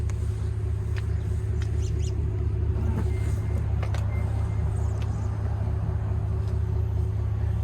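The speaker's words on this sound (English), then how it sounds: "Quad tip exhaust system, which is actually pretty aggressive. Like the overall sound you get." A 2026 Chevrolet Tahoe Z71 engine idling through its quad-tip exhaust, a continuous deep, steady rumble close by with faint clicks and ticks over it and no voices.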